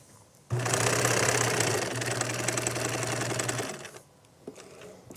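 A sewing machine stitches fabric with a steady, fast mechanical whir for about three seconds, starting abruptly and stopping before a few faint clicks.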